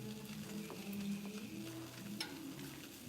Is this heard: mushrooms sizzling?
yes